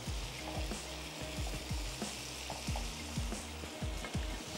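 Onions and tomatoes fry and get stirred in a pan, a steady close sizzle broken by repeated soft scraping strokes of a spoon through the mix.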